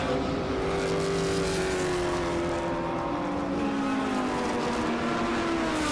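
KTM X-Bow race cars at a regional circuit racing meeting, engines droning loud and steady with a rising and falling pitch as they run close together, and no voices.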